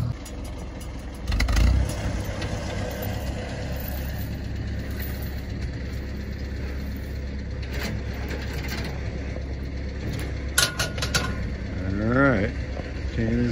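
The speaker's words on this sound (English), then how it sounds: "Lewis is gonna back the tractor on up. He's got a chain around the rear axle." Tractor backing up and pulling an old car by a chain wrapped around its rear axle, a steady low diesel rumble with metallic clanks, creaks and scraping, voices talking over it.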